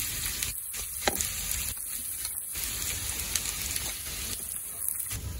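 Turmeric and salt sizzle in hot oil with onions, a steady, faint crackling hiss that runs throughout, with occasional sharper pops and light stirring scrapes.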